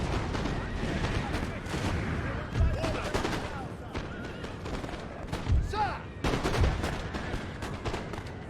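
Highland Foot infantry rifles in Napoleon: Total War fire in repeated ragged volleys and scattered cracks, dense and continuous, with a horse whinnying briefly amid the battle and a voice talking over the noise.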